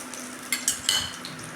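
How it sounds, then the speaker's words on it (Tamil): Chana dal and urad dal stirred in a steel kadai, a few quick metallic scrapes and clinks of the spoon over a faint background hiss, close and brief. "இது சில்வர் கடாய்ங்கிறனால அடிப்படி வாசனை அடிக்கும் அதனால தான் நான் அது கிளறி விட்டுகிட்டே இருக்கேன்"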